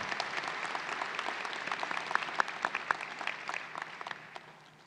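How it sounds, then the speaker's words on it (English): Applause at the EIU 2021 fall commencement ceremony for the marshals, a broad crowd of hands clapping with a few sharp individual claps standing out before the sound thins and tapers off toward the end. "Let's give all of the marshals a round of applause for their help and participation today."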